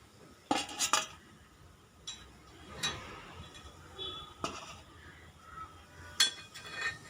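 Sweet wheat kuzhi paniyaram lifted from the pan onto a plate: scattered metal and dish clinks, a quick double clatter early on and several lighter taps spaced through the rest, all close up.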